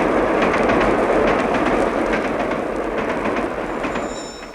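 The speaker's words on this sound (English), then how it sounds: "With stereo, an express train roars through your living room." An express train roars past in a 1959 stereo demonstration recording, a loud, dense, continuous rush that gradually fades toward the end.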